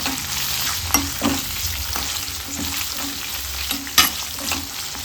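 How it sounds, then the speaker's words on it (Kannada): Cinnamon, cloves, cardamom and fennel seeds sizzle in hot oil for a vegetable pulao, a steady close frying crackle broken by a few scraping stirs of a spoon in the pan. "ಸ್ವಲ್ಪ ಚಕ್ಕೆ, ಲವಂಗ, 1 ಏಲಕ್ಕಿಕಾಯಿ, ಸೋಂಕಾಳನ್ನು ಹಾಕ್ಕೊಂಡು ಫ್ರೈ ಮಾಡ್ಕೊಳ್ಳೋಣ."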